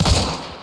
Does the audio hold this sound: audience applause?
no